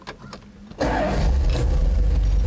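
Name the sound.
1970 Dodge Challenger 340 engine starting with key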